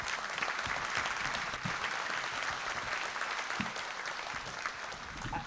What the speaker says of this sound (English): let's give a round of applause to those individuals